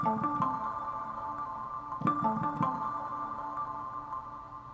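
Two synth pluck patches layered an octave apart on a keyboard, short plucked notes with a sustained tonal bed, a few note groups spread over several seconds, moderate level with no voice.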